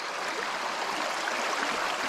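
Clear mountain creek water flowing across a small rock dam on the Cossatot River, a steady close bright rushing babble with no talking.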